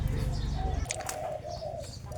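A dove coos softly at a distance over a low background rumble and hum, with a faint chirp or two nearby.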